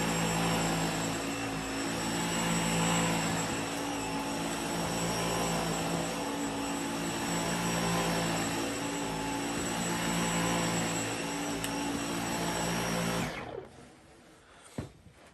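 Dyson V15 Detect cordless vacuum cleaner runs with a floor head fitted, a loud, steady motor whine and airflow roar holding for about thirteen seconds before cutting off, followed by a couple of faint clicks.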